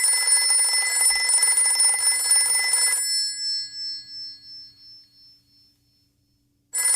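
A telephone bell rings loudly and steadily for about three seconds, then its tone decays in fading pulses into silence before a fresh burst of ringing starts at the very end.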